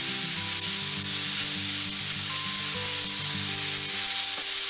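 Mushrooms and onions cook down in a pan with a constant loud sizzle and hiss, while a low tonal hum runs beneath it and no one speaks.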